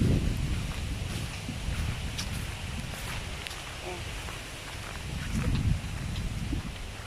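Strong wind roars across the microphone while wild waves surge and crash at a sandbar near Tiningisan Island, the rushing noise swelling and fading; a faint voice may be buried beneath it.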